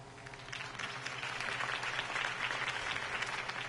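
Crowd applause at a campaign rally in the Telltale Batman video game, steady clapping from many people that swells slightly and holds, at moderate distance, with no one talking.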